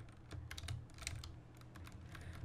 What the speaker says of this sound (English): Shouldn't be typing in mid fight